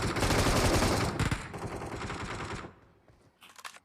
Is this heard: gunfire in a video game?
yes